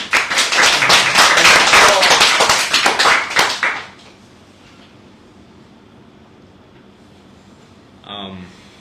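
Loud, dense clapping from an audience at a magazine launch event in Hanoi, sustained for several seconds and then stopping abruptly, leaving a quiet room with a faint brief sound near the end.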